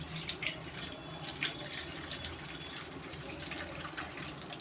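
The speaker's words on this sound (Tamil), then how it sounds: "தண்ணி நம்ம வடிகட்டிடணும் வச்சு இதை பூரா வடிகட்டிடணும்" Water pours and splashes steadily as it is drained off soaked flour for halwa, a continuous close gushing with no talking.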